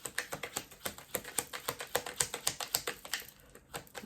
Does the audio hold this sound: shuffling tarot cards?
yes